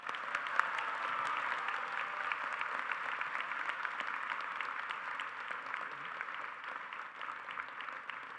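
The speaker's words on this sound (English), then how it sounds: "Please join me in applauding the accomplishments of our 2025 Riddle Prize winner" A university honors college commencement audience applauds a prize winner, dense sustained clapping from a large crowd filling the hall evenly without a break, at moderate distance.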